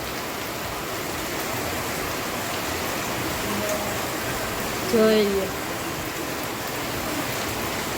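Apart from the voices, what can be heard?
heavy rain pouring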